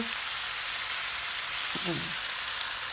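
Food stir-fries in a pan with a little water added, giving a constant bright sizzle with a few scraping stirs near the end.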